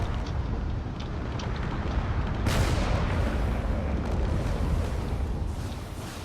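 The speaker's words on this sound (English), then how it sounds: "There's still a lot of missiles being fired from these ships over here" Ships firing missiles and weapons in a space battle video game, a constant roar of layered booms with one sharper blast midway that swells the din briefly before it settles back.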